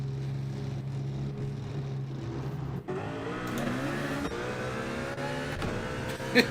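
Race cars idle and rev in the pit lane of Gran Turismo 7 at Le Mans as the crew changes tyres, with a steady engine drone, mechanical whirring and brief clanks, and no voices.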